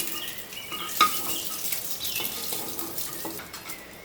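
An egg fries in soybean oil in a pan, the oil sizzling and crackling steadily in a soft frying hiss, with a few light clinks of utensils.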